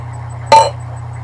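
A bottle of Ranger Creek Mesquite Smoked Porter, a well-carbonated beer, is cracked open with one short, sharp pop and a brief hiss, close and alone against a quiet hum.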